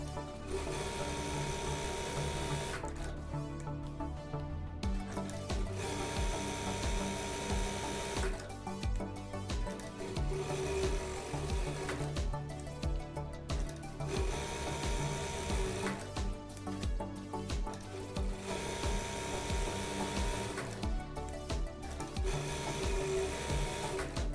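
A Sun Spec SS1967X straight-stitch sewing machine sews decorative topstitch points in repeated bursts of rapid mechanical whirring and clatter, each lasting a few seconds with short pauses between.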